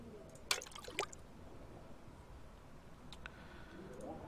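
Water being drawn from a storage container in the survival game The Long Dark, heard as a couple of short liquid splashes or drips early on, with faint trickling later, alone.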